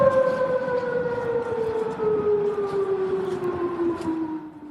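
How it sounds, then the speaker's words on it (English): A civil defense siren in Bahrain wails continuously with a slowly falling pitch, sounding distant but clear against a steady background. "Those are the sirens in Bahrain"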